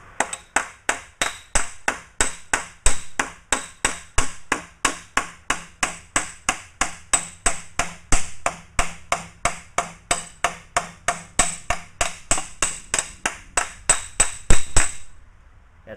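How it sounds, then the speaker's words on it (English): Sheet metal for a Willys CJ3B Jeep side panel edge is hammered over a hammer form: about forty sharp, ringing blows in a steady even rhythm, loud and close, ending abruptly. "this is where we'll sharpen it up again."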